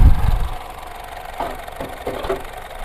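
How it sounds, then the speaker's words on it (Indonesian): A used ten-year-old car's engine idles with the bonnet open, a steady low mechanical hum with faint periodic ticks and knocks, heard close and alone with a brief louder thump at the start. "kita cek aja bagian mesin, mumpung mesinnya nyala"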